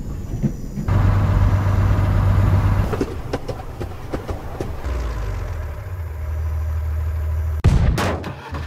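A heavy, rumbling mechanical roar with rattling bursts ends in a sharp, loud blast near the end, like a cannon firing amid machinery, in a video game.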